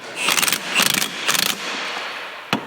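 A ratchet wrench clicks through three quick bursts of rapid ratcheting, close and loud, followed by a single sharp click.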